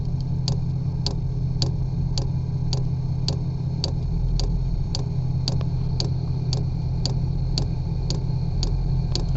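A 5 kW diesel heater's fuel pump priming with diesel in a truck bed, ticking in a steady, evenly spaced rhythm over a constant low engine-like hum, close and unbroken throughout.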